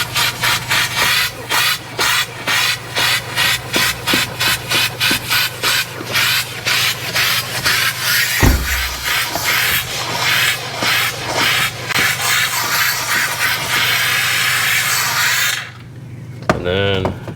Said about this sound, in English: I'll hit this with steam